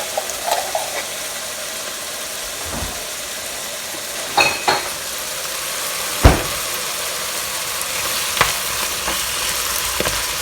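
Minced garlic, a heaping tablespoon, is stirred around in a hot pan for lasagna, giving a steady soft sizzle with a few scraping clinks of the utensil, close and without talk.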